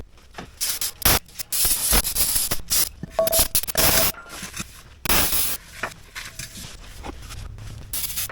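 Cleaner sprayed from a bottle onto a Jeep XJ engine part in short, close hissing bursts, with rubbing and scraping between the sprays.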